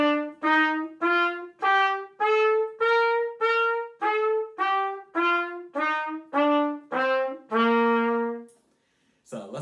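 An eight-note scale rising from C to high C and back down, played as separate sustained notes on a bright wind instrument, steady and evenly spaced, close and clear with no talking.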